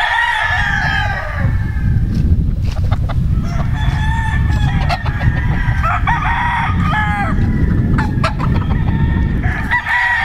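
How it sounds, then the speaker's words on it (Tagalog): Many roosters crow and cluck together on a Missouri gamefowl farm, overlapping calls rising one after another over a steady bed of farmyard clucking, loud and close throughout. "Ang dami niyang mga manok."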